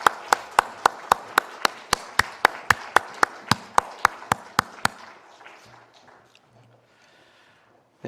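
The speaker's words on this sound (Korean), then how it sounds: "하나님께 영광의 박수 올려드리겠습니다" Church congregation clapping in unison as applause to God: around seventeen sharp, evenly spaced claps at a steady rhythm, then a quiet room with faint murmurs.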